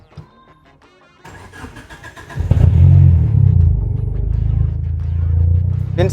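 Mitsubishi Galant VR4 turbo engine starting: starter cranking for about a second, then the engine catches with a loud rising rev before settling into a steady, rumbling idle close by.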